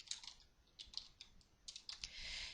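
Quick bursts of keystrokes on a computer keyboard while a command is entered into a text game, soft close clicks in short runs with pauses, a denser patter at the end.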